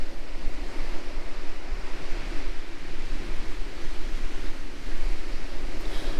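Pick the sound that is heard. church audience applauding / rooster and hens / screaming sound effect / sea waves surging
sea waves surging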